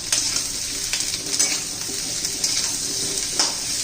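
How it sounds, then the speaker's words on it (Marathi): Chopped onion sizzles and fries in a pan for egg curry, with a steady hiss broken by the scrape and clink of a spoon stirring, close and unaccompanied by speech. "छान मस्त असं परतून घेऊया कांदा"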